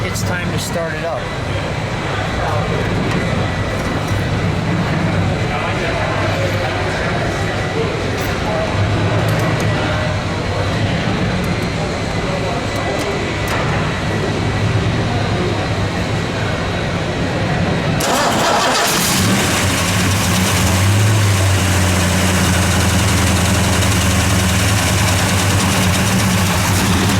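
A 1970 Ford Torino GT convertible with a 429 Cobra Jet V8 and four-speed cranks, catches and settles into a loud, deep idle after a long rumbling stretch. People speak near the car.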